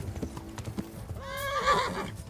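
A horse in the Kingdom Come: Deliverance video game clip-clops with soft hoof thuds, then gives a loud, clear whinny that rises and trails off.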